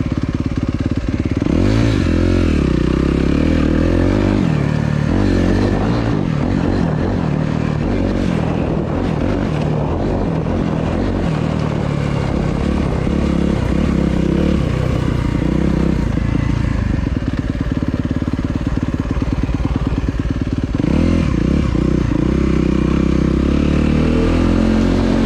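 A 2023 Suzuki RMZ250 dirt bike engine roars loud and continuously while ridden, its pitch rising and falling as the throttle opens and closes over jumps, with constant wind buffeting.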